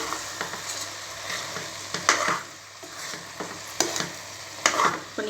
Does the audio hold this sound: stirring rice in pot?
yes